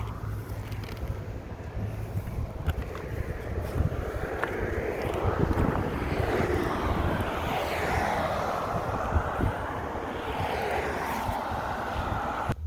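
Strong wind blowing outdoors around a warehouse, a steady loud roar with rushing gusts and buffeting against the microphone throughout, no talking.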